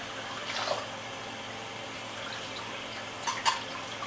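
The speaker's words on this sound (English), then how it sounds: "you gotta get this washed and rinsed" Dyed cotton yarn rinsed under a running tap, a soft steady trickle of water with a few brief splashy bursts, fairly quiet and with no talking.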